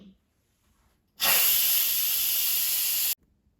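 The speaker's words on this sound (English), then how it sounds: "so let's quick release the steam" Steam blasts out of an Instant Pot during a quick pressure release after cooking vegetable beef soup, a loud, close, steady hiss lasting about two seconds that starts and stops abruptly, with quiet before and after.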